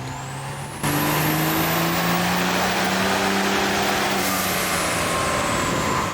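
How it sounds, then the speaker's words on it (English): A truck engine with a WC Fab twin turbo kit and Exergy fuel system bursts to full power on a dyno, holding a loud, sustained screaming pull with a rising turbo whine for several seconds before easing off. "here it is just screaming with that new WC Fab twin turbo kit and Exergy fuel system."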